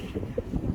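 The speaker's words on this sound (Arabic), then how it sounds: "أنا حرجع لأنه خلاص هوا شوية ويشيلني" Strong wind blowing outdoors under clouds and rain, a brief low buffeting rumble pressing on the microphone, steady and close.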